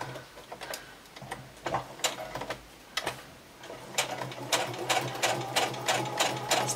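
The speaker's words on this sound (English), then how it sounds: "It's a bit odd sewing at this" A domestic sewing machine stitches fabric at an awkward angle, its needle clattering in a steady rapid ticking rhythm close up, with short pauses and restarts and a low motor hum underneath.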